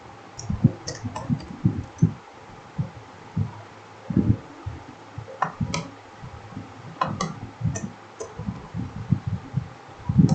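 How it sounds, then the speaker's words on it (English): Typing on a computer keyboard produces irregular bursts of close, crisp key clicks and taps, pausing briefly between runs of keystrokes. "Let's type something."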